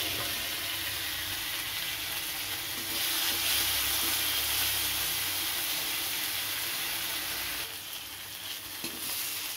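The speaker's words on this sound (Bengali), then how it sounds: "প্রথমে আদা রসুন আর লঙ্কা পেস্টটা দিয়ে দিলাম।" Ginger, garlic and chili paste sizzling in a small amount of hot oil, a steady close hiss of frying that swells briefly while it is being stirred.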